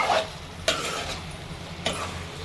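Prawns frying in a pan as chili powder and salt go in, a steady close sizzle with two sharp stirring scrapes spaced through the clip.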